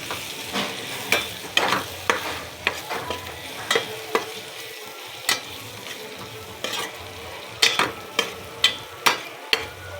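Potatoes, onions, gram flour and spices including garam masala and turmeric are stirred in a frying pan, a spoon scraping in regular strokes over a constant low sizzle, close and without voices.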